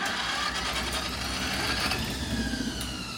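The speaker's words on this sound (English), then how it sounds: "You're going to start the big engine then, if it goes?" A big engine starts and runs steadily nearby, a continuous rumbling drone that holds throughout with no pauses.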